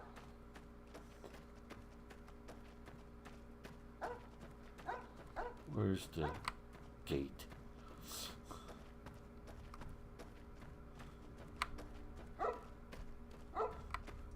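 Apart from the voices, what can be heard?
dog barking in the video game Fallout: New Vegas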